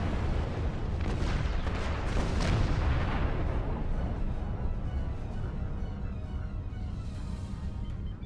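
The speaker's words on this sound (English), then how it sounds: "there goes the torpedo" A heavy, booming torpedo launch in the space combat game Star Trek Online, a loud rumbling blast that swells in the first few seconds and then rolls off into a long, dense low roar.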